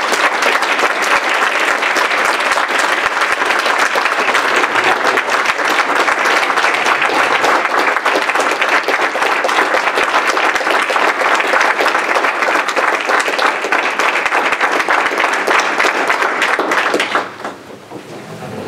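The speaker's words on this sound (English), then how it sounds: "Let's give him a round of applause." Long, loud, sustained applause fills a school district board meeting room, a dense crowd of clapping hands holding steady for over fifteen seconds before abruptly dropping off to quiet murmurs.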